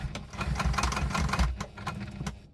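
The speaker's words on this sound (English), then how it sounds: "I worked out why the sewing machine wasn't working." Sewing machine stitching a tote bag, a close rapid mechanical chatter of needle strokes with low motor thumps, running unevenly for a couple of seconds before stopping.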